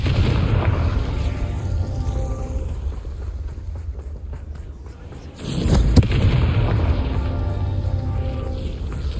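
A Confringo blasting spell detonates in Hogwarts Legacy as a loud, sharp boom about two-thirds of the way through, rising out of steady, dense game rumble and ambience.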